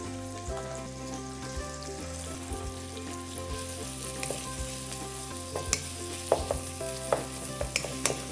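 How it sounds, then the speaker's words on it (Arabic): Onions sizzling in a pan with ras el hanout for a rolled lamb dish, a steady close frying hiss with faint crackles and occasional stirring, no talk. "هنا لازم البصل تاعنا يذوب شويه، يعني يذبل شويه"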